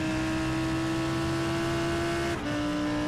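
A Lamborghini Huracan GT3 Evo with a 5.2-litre V10 in a racing video game, heard on board as a loud, steady high-revving engine drone that briefly drops in pitch near the end, suggesting a gear change.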